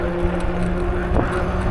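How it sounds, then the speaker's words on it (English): Knobby all-terrain tires on a full-suspension 750-watt e-bike howl steadily on pavement, a continuous tonal whir with faint road rumble, moderately loud and alone throughout. "You can definitely hear the tires."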